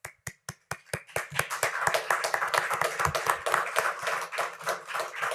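Applause at a public college district board meeting starts with a few separate claps and swells into steady, moderately loud clapping from a room of people.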